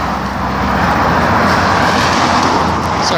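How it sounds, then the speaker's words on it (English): Road traffic with cars passing close by while walking along a street: a loud, continuous roar and rumble of engines and tires that fills the whole stretch without pause. "it's so loud with all the cars"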